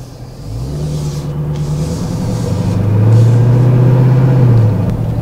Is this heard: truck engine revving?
yes